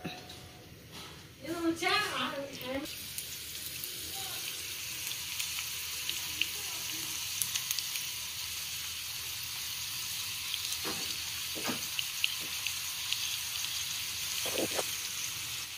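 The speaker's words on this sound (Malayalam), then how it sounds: "ഓയിൽ ഒഴിച്ച് പാൻ ചൂടായിട്ടുണ്ട് ഓയിൽ ചൂടായിട്ടുണ്ട് നമുക്കിത് ഓരോന്നായിട്ട് ശല ഫ്രൈ ചെയ്തെടുക്കാം" Chicken banki pieces shallow frying in hot oil in a pan give a steady, continuous sizzle that runs throughout, with a few brief clinks. A voice speaks near the start.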